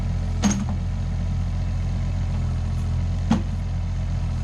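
A Case machine engine idles while warming up, a steady low running drone with two brief clanks or knocks standing out near and loud.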